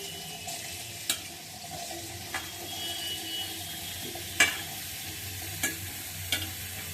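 Potatoes and cauliflower cook in hot oil in a pan, giving a soft, steady sizzle with a few sharp clinks and scrapes of stirring at intervals, fairly quiet and close.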